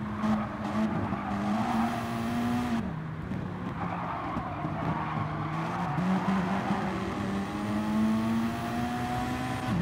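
Race cars at a rolling start at the Nürburgring GP in a sim racing game: loud, continuous engine drones that rise and fall in pitch as several cars accelerate and shift together.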